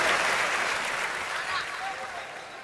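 Audience applause at a Hindi political comedy or poetry stage show, a dense steady clapping that fills the space and slowly thins toward the end.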